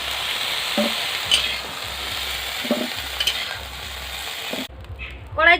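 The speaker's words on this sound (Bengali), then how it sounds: "হালকা করে ভেজে নিয়েছি, এবার তুলে নেব।" Vegetables frying lightly in a pan for a sour fish dish with dried mango powder, a steady soft sizzle with a few brief clinks of stirring, ending in a quieter stretch with faint higher-pitched sounds.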